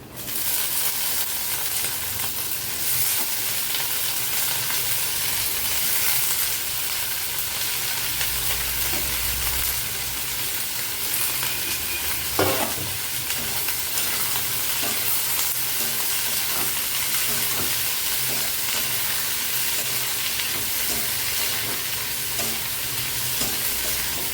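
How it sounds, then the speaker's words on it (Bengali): Carrot, beans and green chillies hit onions already fried red in a pan, giving a steady, loud sizzle and crackle with occasional stirring scrapes throughout, no talk. "পেঁয়াজটা লাল লাল ভাজি করা হয়ে গেছে, এখন এই সবজিটা আমি দিয়ে দিচ্ছি।"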